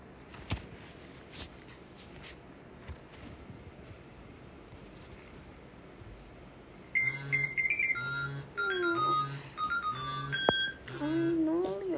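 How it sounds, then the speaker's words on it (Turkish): After a stretch of low background noise, a synthetic alarm clock in Toca Boca starts with repeating electronic beeps in a steady pattern, fairly clear. "alarmımmış saat 7 olmuş"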